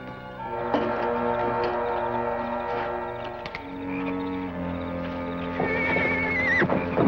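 Spooked horses in an Old West frontier setting whinny and neigh repeatedly over a steady low hum, with scattered hoof clops and a shrill, rising neigh near the end, fairly close and clear.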